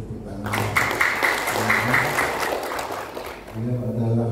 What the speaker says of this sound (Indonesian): Jadi tepuk tangan.